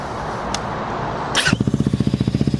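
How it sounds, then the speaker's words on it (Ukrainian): A KOVI Lite 300 motorcycle engine fires up after a quiet idle hum, then settles into a loud, steady, rapidly pulsing idle right beside the listener, with no voices. "Запускаємо мотоцикл."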